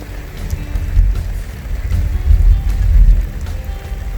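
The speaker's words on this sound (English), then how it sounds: "You can hear all the nasty weather around me, folks." Blustery storm weather rushes past outdoors near a raised garden bed, with steady wind buffeting and low rumbling gusts that swell and fade, loud and close throughout with no talking.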